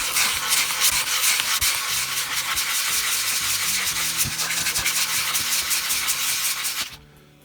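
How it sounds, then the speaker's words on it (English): Rapid back-and-forth scraping of sandpaper rubbed by hand on the wood of a homemade electric guitar, a continuous rough rasping that stops abruptly near the end. "Sometimes you can't get the power tools in, and you just have to sand by hand."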